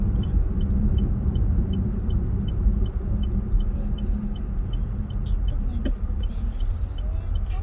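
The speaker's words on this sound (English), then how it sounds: "Is this car coming in behind us?" Car driving on a road, heard from inside as a steady low rumble of engine and road noise throughout, loud and continuous, with faint ticking and a brief clunk near the end.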